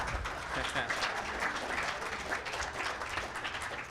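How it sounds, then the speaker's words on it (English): Audience applause at a BSidesLV 2026 security conference session, a steady dense wash of clapping from a crowd that holds for about four seconds at moderate level. "Bigger round of applause, everybody."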